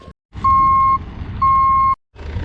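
A gravel delivery truck backs up at a driveway build, its reversing alarm sounding two long, loud, steady beeps over a low diesel rumble, with a brief quiet gap before the engine noise returns.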